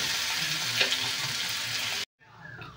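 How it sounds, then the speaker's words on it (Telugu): Potatoes being stirred and fried in a pan, a loud continuous close sizzle with stirring scrapes that cuts out abruptly near the end, then resumes more quietly. "దీన్ని బాగా కలుపుకుంటూ ఫ్రై చేసుకుంటూ మనకి ఫ్రై అనేది పర్ఫెక్ట్గా వస్తుంది"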